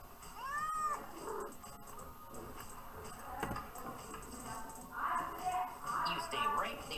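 A cat meows several times, soft and fairly close, with quiet background noise and brief stretches of voice between the calls.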